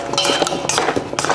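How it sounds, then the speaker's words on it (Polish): Utensils clink and scrape against a dish as pork ribs with vegetables and marinade are stirred, a busy run of clattering contacts with no talking. "teraz to już wystarczy wszystko dokładnie wymieszać"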